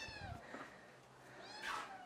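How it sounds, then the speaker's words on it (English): A new kitten meows faintly at close range, several thin rising cries with one stronger meow near the end, over quiet room tone. "There's the kitty."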